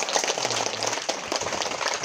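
Audience applause at a community waste-bank gathering, with the Irma mosque youth group being cheered: a steady, dense wash of clapping that carries on evenly for the full two seconds with no break.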